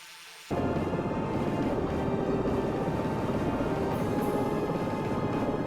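Helicopter in a flight video game setting down softly in darkness, its steady rotor and engine drone starting abruptly and holding loud and even throughout, with no talk.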